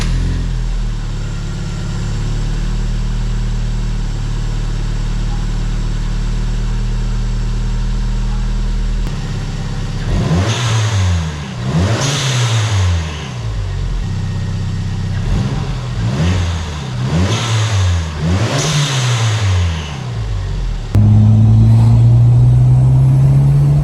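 Toyota Celica GT-Four with a newly fitted blow off valve, idling steadily, then revved several times in quick rising and falling bursts with sharp whooshes between them, loud and close, ending in a higher sustained rev.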